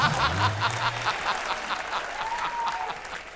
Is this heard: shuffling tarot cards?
no